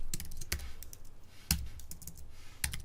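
Typing on a computer keyboard while entering text into a web app's input field: a fairly quiet, continuous patter of keystrokes with a few sharper, louder taps, heard alone with no talk.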